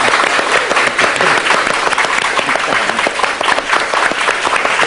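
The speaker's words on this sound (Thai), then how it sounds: "ขอเสียงปรบมือต้อนรับคุณจอยด้วยค่ะ" Dense, steady audience applause fills the room as a guest, the managing director of Enjoy Life company, is welcomed onto a Thai television show stage, sustained loudly for about five seconds.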